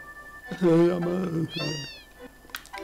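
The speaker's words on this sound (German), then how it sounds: "Kätzchen." A cat meows in the Final Fantasy VII video game, a short, bright game-audio cry that stands out clearly over a faint steady tone, followed by a quieter second call and a few soft clicks.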